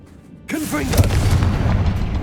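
A Confringo explosive spell in the Hogwarts Legacy video game whooshes in with a rising, swirling sweep, then detonates in a loud, deep boom that rolls on with rumbling debris.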